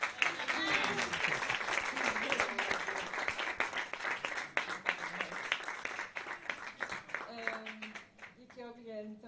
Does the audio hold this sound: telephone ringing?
no